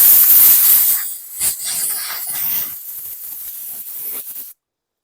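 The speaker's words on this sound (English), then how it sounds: "Seems like the compressed air is moving it out of the way." Compressed air hisses in loud bursts from a nozzle, blowing debris off a 2013 Lawn-Boy self-propelled mower, with short pauses between blasts, then cutting off abruptly.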